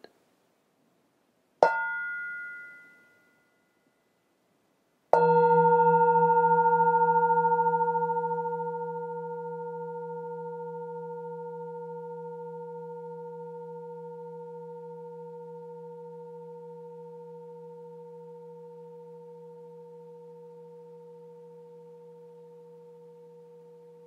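A meditation bell is struck twice: a short first ring that dies quickly, then a fuller strike whose pure, sustained tone hangs steadily and slowly fades toward silence, with no voices.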